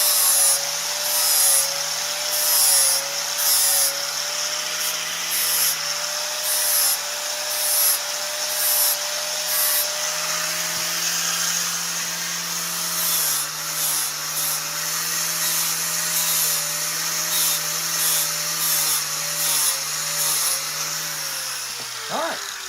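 A power sander works over a wooden log being carved into a bald eagle, a steady high whine and rough rubbing with pitch shifts as pressure changes, close and continuous.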